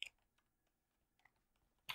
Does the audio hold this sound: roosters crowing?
no